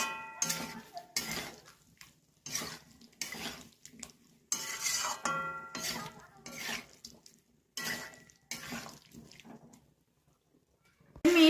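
Spatula scraping and clinking against a pan in short bursts as fried vegetables are tossed with spices, each stroke separated by brief pauses, close and clear with no talk.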